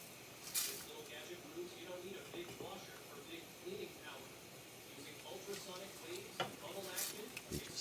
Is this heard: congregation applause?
no